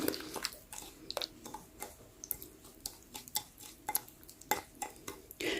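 A utensil scrapes and clinks against a bowl in an irregular rhythm of light taps, close and fairly quiet, with no voices, while stirring a homemade natural body scrub mixture.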